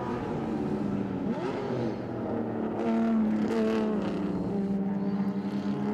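Group A heritage touring cars, a BMW chasing a Jaguar, race around the Winton circuit, with loud engines revving and changing pitch as they pass close by and accelerate through the gears.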